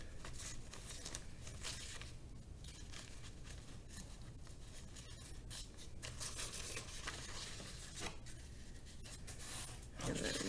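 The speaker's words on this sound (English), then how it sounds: "I'm gonna fold it lengthwise" Paper being folded lengthwise for a walking-water science experiment, continuous soft rubbing, crinkling and creasing close by, with a dense rustling texture and a sharper crumple near the end.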